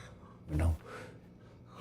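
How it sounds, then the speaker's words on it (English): Heavy breathing from a character in the Stationeers game, a loud sharp gasp followed by softer, airy breaths, close and prominent. "hear that heavy breathing."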